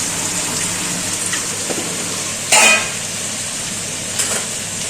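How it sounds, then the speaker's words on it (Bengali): Paneer frying in an oiled pan, a steady soft sizzle with one brief louder burst of spitting partway through and a faint tap near the end, with no talk. "পনির তো ভেজে নেবো আর কি"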